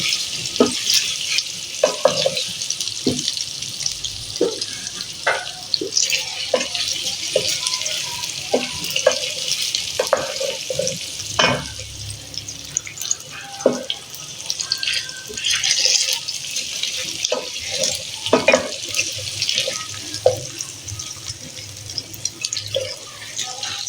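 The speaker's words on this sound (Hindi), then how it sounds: "तो ये अरवी और आलू को मैं डाल के थोड़ा सा फ्राई कर लूँगी।" Cubed taro root (arbi) and potatoes frying in oil in a home kitchen pan, a steady close sizzle with scattered clinks and stirring scrapes running throughout, no talking.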